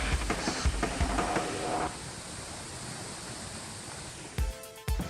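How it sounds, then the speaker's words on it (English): An Icelandic waterfall roars as a steady, broadband rush of falling water, loud and close, with a few bumps and knocks near the start and end. "But this is a waterfall, so I think it's way cooler."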